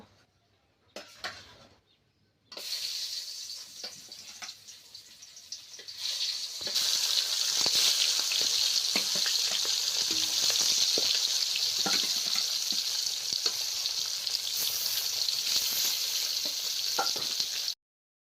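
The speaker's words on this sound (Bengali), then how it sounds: "মাছটা ভেজে নেব" A couple of brief clatters, then a loud sizzle starts as a large snakehead fish hits hot oil, rising to a steady crackling fry that continues to the end.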